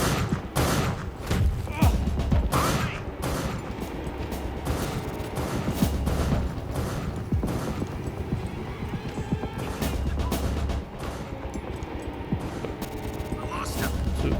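Enemy gunfire in the game Beneath comes as a series of sharp, loud shots in irregular bursts, with clattering mechanical sounds between them and a voice speaking now and then.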